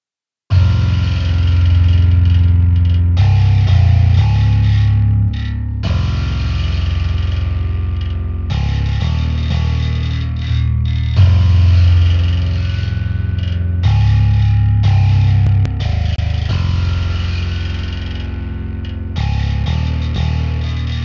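A heavy distorted bass guitar processed through the Audio Assault Head Crusher plugin plays a chugging metal riff with thick low notes and gritty tone, loud and continuous with no talking.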